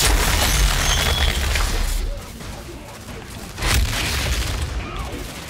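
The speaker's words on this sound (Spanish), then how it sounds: "Pero esto es una escopeta" Shotgun blasts in the Outriders video game during a solar tower boss fight, heavy booming shots with a loud burst at the start and another near the middle, under a dense, noisy game mix.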